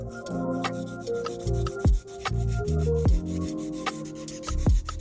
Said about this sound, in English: I'm curing that for 60 seconds and then buffing off the shine.